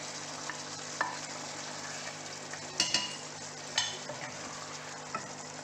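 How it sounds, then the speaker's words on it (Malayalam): Fried capsicum and paneer added to cooked onions in a pan, giving a soft continuous sizzle with a few clinks and scrapes of a spoon, close and fairly quiet, with no talk. "ഇതിലേക്ക് നമ്മൾ വറുത്ത് വെച്ചിരിക്കുന്ന ക്യാപ്സിക്കവും പനീറും ചേർക്കുകയാണ്."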